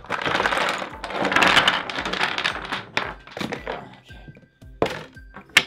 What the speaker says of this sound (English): Yeah, it's loud when you play with blocks.